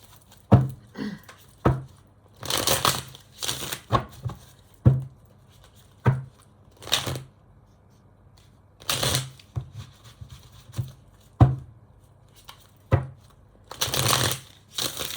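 Tarot cards handled and shuffled on their own, with repeated bursts of riffling and soft slaps in an irregular rhythm, close and fairly loud, no voices.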